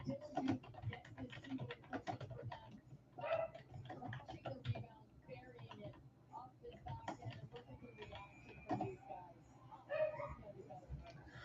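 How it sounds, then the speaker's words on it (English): Small Pekingese dog yaps and barks faintly in the background, on and off, beneath steady talking and clicking noises. "I apologize if you hear any barking Pekingese in the background."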